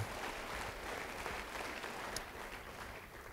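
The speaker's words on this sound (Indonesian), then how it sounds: "Beri tepuk tangan bagi dia" Congregation applause during a church sermon on Amazing Grace, a steady, fairly faint wash of clapping that holds evenly throughout with no voices on top.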